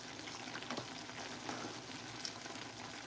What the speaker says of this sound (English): Stir these noodles up.